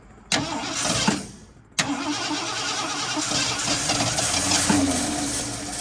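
An old, long-abandoned Ford F350 truck engine cranks with a whirring starter, briefly catches, cuts out, then cranks again into a rough, sputtering run, loud and close.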